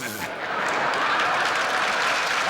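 Steady applause from a large television studio audience fills the whole stretch, a dense even wash of clapping at moderate volume.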